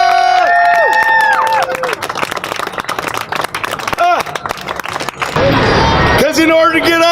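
A street performer's crowd cheers loudly, with whoops, shouts and rising vocal cries over steady babble, and a burst of dense cheering near the end.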